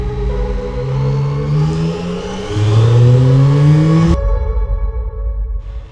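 A Yamaha MT-09 SP motorcycle engine revs up through rising pitch, drops back and climbs again to a high peak before cutting off abruptly, loud and close with no talk.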